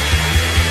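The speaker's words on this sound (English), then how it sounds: "what if I use this hairdryer to make one big giant piece of gum?" A hair dryer blows loud and close in a short steady burst of airflow, with a faint pulsing rise and fall in its hum.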